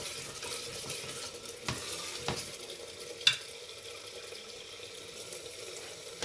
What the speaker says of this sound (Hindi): इसकी बुनाई अच्छी तरह कर दी है।